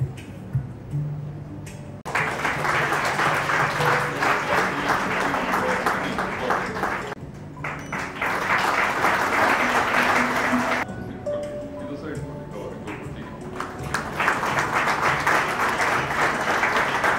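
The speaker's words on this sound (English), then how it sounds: "A big round of applause, ladies and" Audience applause at a university International Women's Day celebration: sustained clapping swells in three long bursts with brief lulls between, loud and filling the hall.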